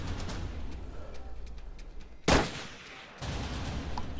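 A single loud, close rifle shot during a hunt in Africa, a sharp crack with a short decaying echo, set against outdoor background noise.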